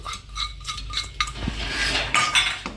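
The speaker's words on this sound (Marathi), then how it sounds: "हा शेंगदाण्याचा कूट पण त्याच्यामध्ये आपण चांगला परतून घेऊ" A utensil stirs roasted gram flour and crushed peanuts in a pan, close up, with dry scraping and a few light metallic clinks and taps over a couple of seconds and no talking.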